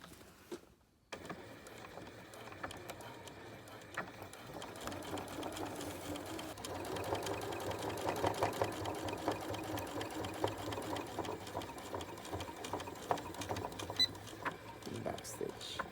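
A sewing machine stitching a boned bustier, running in a steady mechanical whir close by after a brief silence near the start, the motor hum rising slightly and continuing without pause.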